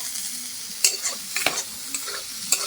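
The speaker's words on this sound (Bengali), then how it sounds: "এরপর আমি নাড়াচাড়া করে নেব একটুখানি" A spatula stirs pumpkin leaves in a pan with a few sharp scrapes at an uneven pace, over a soft, steady sizzle of frying.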